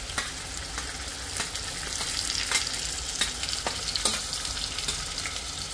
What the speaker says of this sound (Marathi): कांदा, टोमॅटो, कोथिंबीर आणि सुकं खोबरं जे आपण भाजून घेतलं होतं त्याचं वाटण घालूया.